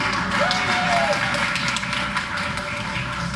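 An audience applauds a teacher at a Teacher of the Year ceremony, a continuous crowd of clapping hands heard throughout at an even level.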